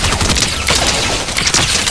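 Gunfire in the Fortnite video game: a dense, continuous barrage of rapid overlapping shots crackles loudly and close for the whole stretch, with no pause between bursts.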